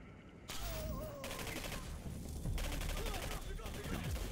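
Pistol gunfire in the PC game Singularity, a dense run of sharp shots over a loud, busy game soundscape of explosions and rumbling effects that continues the whole time.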